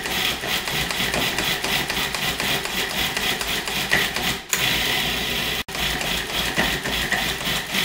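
A food processor pulses chia cookie dough with mulberry pieces, a rapid steady mechanical chatter with two brief abrupt breaks in the run, close and loud with no talk.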